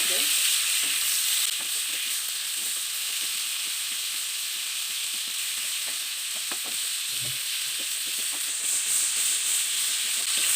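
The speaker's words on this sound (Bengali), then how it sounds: "এই যে আমার মাছগুলো ভাজা হয়ে গেছে, অল্প করে একটু ভাজলাম।" Prawns fry in a pan for a chingri malai curry, with a steady hissing sizzle, scattered pops and crackles, and light spatula stirring close by.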